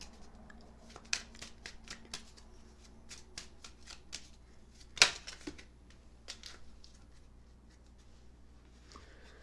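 Tarot cards are shuffled and drawn close by in a quiet room, a steady soft riffle of crisp paper flicks with one sharper snap near the middle.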